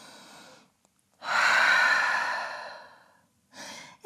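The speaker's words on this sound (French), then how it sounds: "Grande respiration en chien tête en bas." A deep, loud breath taken while holding a downward dog yoga pose, a long airy inhale-exhale swell lasting about two seconds, framed by softer, shorter breaths before and after, with no talking.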